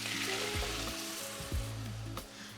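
Frozen vegetables and liquid hitting a hot pot for a ham and cheese pasta bake, giving a steady close sizzle with a few soft stirring thumps and clinks.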